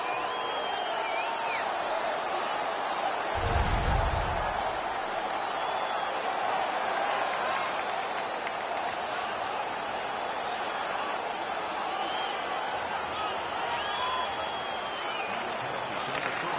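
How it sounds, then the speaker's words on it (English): Crowd roar fills a hockey arena in the NHL 18 video game, a steady loud wash of cheering throughout, with a brief low thump near the start and broadcast-style commentary talk layered over it. "The crowd is all over them right now."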